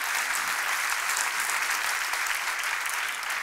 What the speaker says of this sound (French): Est-ce que vous pouvez applaudir mon invité du jour, professeur Antoine Pellissolo?